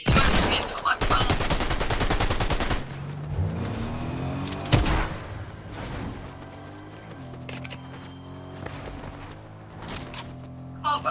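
Minigun fire in the Fortnite video game, a dense sustained burst of rapid shots in the opening seconds, then scattered shots, booms and game effects with a voice talking over them.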